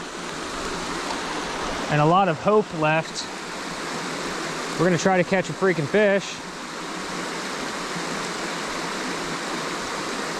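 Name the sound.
small creek flowing in Pennsylvania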